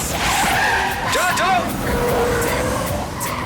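A car races in fast with tires squealing and skidding, loud and continuous, while voices talk over it.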